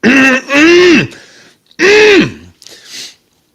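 A person clears their throat and coughs in a few harsh, voiced bursts, close and loud, with brief pauses between them.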